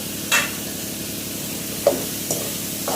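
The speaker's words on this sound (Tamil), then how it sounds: "தக்காளி போட்டு நல்லா கிளறி விடுங்க" Tomatoes frying in oil for an egg curry, a steady close sizzle with a few quick scraping clicks as they are stirred in the pan.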